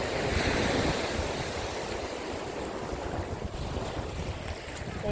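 Rough Atlantic Ocean surf on the French coast, a loud, continuous roar of breaking waves mixed with buffeting wind noise on the microphone.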